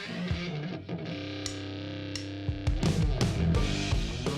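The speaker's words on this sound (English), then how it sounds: "It's a new fuzz distortion filter pedal from Death by Audio" A Death by Audio Germanium Filter fuzz distortion pedal processing guitar, with harsh buzzing fuzzed notes, sustained filtered drones and sharp plucked attacks, growing denser and louder toward the end.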